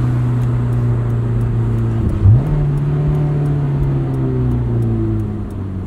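A 2003 Honda S2000 cruising from the driver's seat, its engine a steady drone with a quick rev blip and pitch change around a downshift, then settling back to a constant hum.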